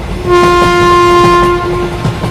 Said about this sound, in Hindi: तभी थोड़ी देर में इन लोगों की ट्रेन अगले स्टेशन पे आ जाती है।